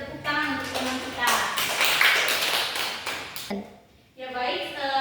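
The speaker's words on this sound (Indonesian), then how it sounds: "beri tepuk tangan untuk teman kita" A classroom gives a student a round of applause after a presentation, a burst of clapping lasting about two seconds that sits between stretches of talking.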